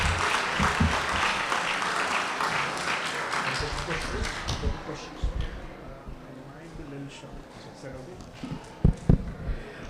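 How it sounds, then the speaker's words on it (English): An audience at a Sunday program applauds, the dense clapping strongest at first and then thinning into scattered claps and a few louder single claps near the end, with voices heard alongside. "Let's give a bigger round of applause for Rupanuga Prabhu"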